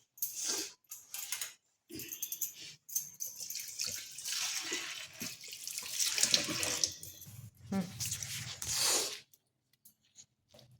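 Tap water splashes into a kitchen sink in uneven bursts as salted bitter gourd is rinsed and squeezed by hand, with short pauses and no talking.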